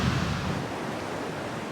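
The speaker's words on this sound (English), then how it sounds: "We're here at Icicle Creek, and we're just below a really big rapid that's considered pretty much unrunnable for most people." Whitewater rapid on Icicle Creek, a dense continuous rushing roar of churning water, loud and steady throughout the short stretch with no voices.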